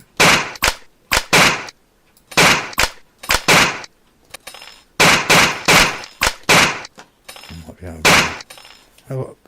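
Gunfire rings out in a video game as loud, close bursts of rapid shots in several separate volleys with brief pauses between them, and a little talk mixed in.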